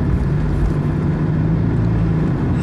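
A Honda Fit Modulo X on the move gives a steady low exhaust drone from an aftermarket muffler, continuous and fairly loud with rushing road and wind noise, with no talk.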